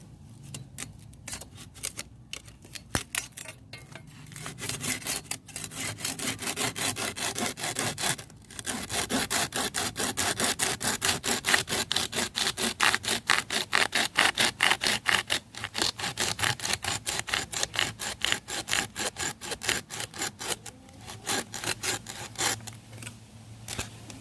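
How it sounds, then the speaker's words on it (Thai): A hand saw cuts through wood in a forest in fast, even back-and-forth strokes, close and loud, with a few short pauses between rapid rasping runs. "ต้องใช้เลื่อยนี่เลยค่ะ ใช้เลื่อย เดี๋ยวลองเลื่อยดูก่อน"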